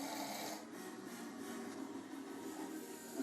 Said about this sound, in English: the world's loudest snore